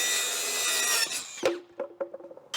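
A power drill bores through a 3/4-inch plywood backer board for a go-kart, the whine steady and loud before it stops and a few short knocks and scrapes of handling follow.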